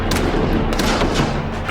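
Soldiers firing a musket volley in a period battle: a single dense, booming crash of many shots together, loud and close, with a rumbling tail and no speech.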